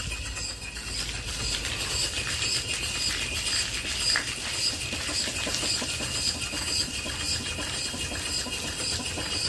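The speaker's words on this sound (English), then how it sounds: "I'm running the pump here again" An antique Worthington steam boiler feed pump, disconnected from its boiler and pumping water, runs with a continuous hissing, chuffing mechanical drone and a fast steady beat up close, with no talking.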